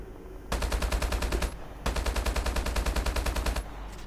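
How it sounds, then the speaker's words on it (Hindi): Rapid automatic AK-47 gunfire in Call of Duty Mobile rings out in two long, loud, evenly spaced bursts, with a short gap between them and no talk. "ओ भाई वहाँ से फायरिंग हो रही है"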